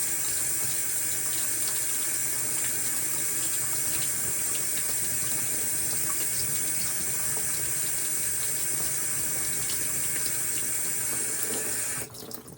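Steady tap water runs and splashes gently while an etched glass jar is rinsed under it, a continuous close hiss that cuts off abruptly at the very end.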